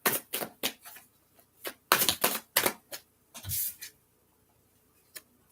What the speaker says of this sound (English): All right, and I'm going to shuffle.